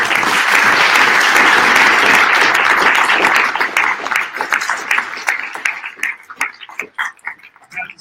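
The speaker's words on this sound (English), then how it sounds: "huge round of applause" A large audience at a cannabis industry business forum gives a loud, sustained round of applause that thins out into scattered individual claps toward the end.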